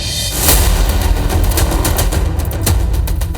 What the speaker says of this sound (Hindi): छतरपुर गोलियों की गूंज से दहल उठा